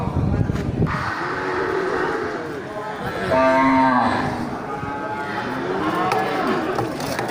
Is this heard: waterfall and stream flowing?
no